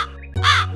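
A crow in an animated children's moral story gives a single loud, harsh caw, close and clear, after a brief quieter tonal lead-in.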